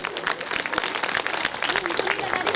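An audience at a Shiv Mahapuran religious discourse applauds, a steady dense patter of many hands clapping for a couple of seconds at moderate loudness.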